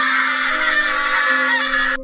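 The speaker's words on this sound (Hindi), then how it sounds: "लाश देखकर राजू भी डर के मारे चिल्लाने लगता है।" Fearful scream in a Hindi horror story, one sustained shrill cry held for about two seconds, loud and close, ending abruptly.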